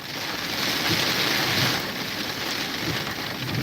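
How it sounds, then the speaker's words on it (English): Rain blows through a cracked car window, a dense steady hiss of drops and rushing air that stays loud and close without a break. "I got this window cracked and I got rain banging in my face."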